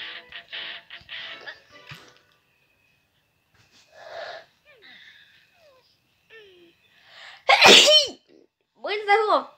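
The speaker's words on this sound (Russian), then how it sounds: "Будь здоров, Анжела" Cartoon character in the Talking Tom mobile game sneezes once, a sharp, loud burst near the end, among high-pitched squeaky cartoon voices chattering before and after.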